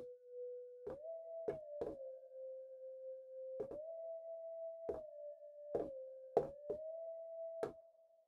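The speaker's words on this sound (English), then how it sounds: "if you want the whistle sound, you would turn to a sine wave" A pure, steady synthesized sine tone whistles continuously in FL Studio, gliding slightly up and down in pitch, punctuated by several sharp clicks, made for a West Coast beat.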